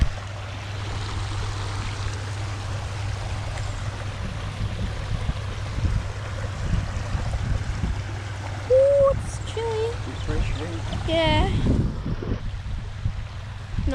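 A small stream of water runs steadily at Bear Gully Campground, with constant outdoor noise and wind, while people talk briefly and a bird calls near the end.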